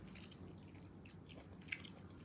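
Chewing egusi soup with bread, heard as close, soft, wet mouth sounds and faint crunches with no talking.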